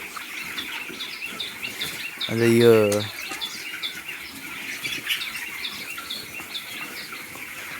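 A poultry farm holding 1,500 chickens fills the air with constant scattered clucks, chirps and wing flutters, a busy flock heard moderately close while a person speaks a couple of words partway through.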